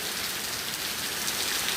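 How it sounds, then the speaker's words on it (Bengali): Heavy rain pouring steadily in Karachi, a dense, even hiss of falling water close around with no breaks or other sounds. "প্রচুর বৃষ্টি, প্রচুর"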